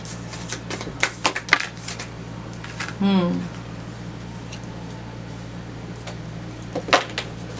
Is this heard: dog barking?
no